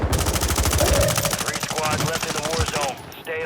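Rapid automatic gunfire in the Warzone 3 battle royale on the Fortune's Keep map, dense sustained bursts of overlapping shots close by, with a player talking over it before the fire cuts off near the end.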